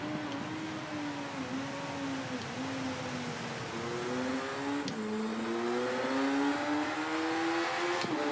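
Motorcycle engines of rival riders in the racing game Ride 3 whine steadily throughout, pitch rising and falling with gear changes, a continuous close engine drone with no talk.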